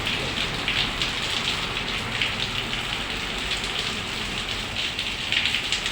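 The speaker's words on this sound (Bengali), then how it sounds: "আজকে সকালটা শুরু হলো বৃষ্টির ঝুমঝুম আওয়াজের শব্দে ঘুমটা ভেঙে" Steady rain pouring outside on a morning, a dense, continuous hiss of drops hitting surfaces, even and fairly loud throughout with no voices.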